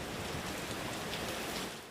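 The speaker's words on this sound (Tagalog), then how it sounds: "Nagsimula sa mahinang hangin at bahagyang ulan." Light rain falls steadily during Typhoon Nando in Santa Ana, a dense, even hiss of drops at moderate level with no voices.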